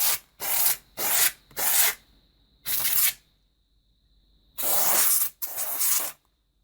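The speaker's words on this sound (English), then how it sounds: "You just spray the compressed air inside the keys." Compressed air sprayed into a computer keyboard in short, loud hissing bursts, six or so spaced spurts of close, sharp spray with brief silences between.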